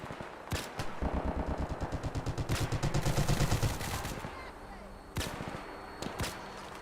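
Rapid automatic gunfire in Fallout 4 aimed at a turret, a sustained burst of closely spaced shots lasting a few seconds, preceded and followed by a few single loud cracks.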